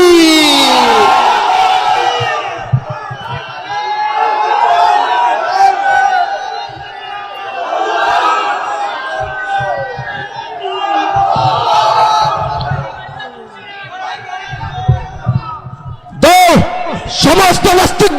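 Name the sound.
rally crowd chanting the takbir, Allahu Akbar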